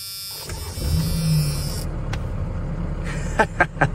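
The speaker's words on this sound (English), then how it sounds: "This is my first time starting this truck" A Dodge Cummins turbodiesel truck engine, just off a tow truck, starting up and settling into an idle: a rising crank and catch, then a steady low rumble, with a few sharp clicks near the end.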